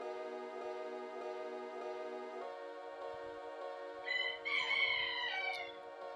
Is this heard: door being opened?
no